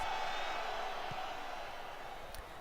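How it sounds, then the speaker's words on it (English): Stadium crowd noise at Saputo Stadium for a Montreal Impact MLS match in the Football Manager 2018 video game, a steady, dense roar of massed voices holding level for the whole stretch, with no distinct cheers breaking out. "Nice home crowd. Saputo Stadium. Rocking it out. Hear the crowd sound."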